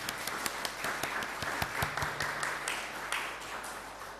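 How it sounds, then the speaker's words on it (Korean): Church congregation at a Sunday worship service applauds to welcome people: a few separate claps at first, then a quieter, thickening patter of hands that tapers off, heard at a moderate distance. "우리 옆에 있는 분들 박수로 환영하기 바랍니다."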